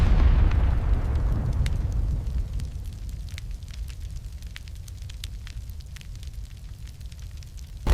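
Massive explosion of a battleship's ammunition magazine at Pearl Harbor, a loud booming blast that rolls into a long, fading rumble with crackling fire and scattered pops.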